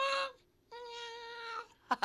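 A pet cat meows twice, a short call followed by a longer, drawn-out meow, clear and close in a quiet room, with a brief rustle at the end.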